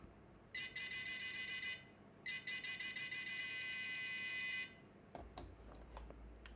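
Two long bursts of high-pitched electronic beeping from a Quest XPointer handheld metal detector, steady and fairly loud, followed by a few faint clicks and rustles.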